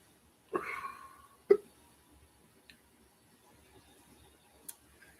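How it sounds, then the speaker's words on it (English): A man hiccups after eating a Carolina Reaper pepper, with two sharp, close hiccups about a second apart followed by faint small sounds. "There go the hiccups."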